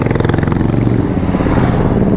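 Motorcycles of a group of bikers arriving in front of a hotel on a monsoon weekend ride, engines loud and close with a rapid pulsing throb and a revving rise.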